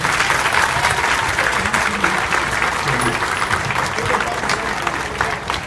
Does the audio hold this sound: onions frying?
no